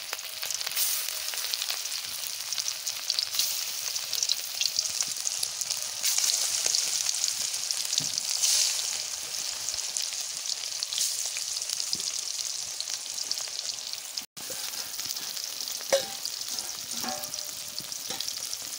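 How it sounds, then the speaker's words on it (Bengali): Tuna pieces fry in hot oil in a pan, giving a steady, dense sizzle that runs close and continuous with small crackles and a brief break near the end, no talking. "মাছ আমি বসাই দিচ্ছি ভাজা, তেল গরম হয়ে গেছে।"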